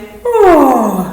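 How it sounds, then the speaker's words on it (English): A person yawns once, a drawn-out voiced sigh that slides downward in pitch for about a second, close and alone. "yawn."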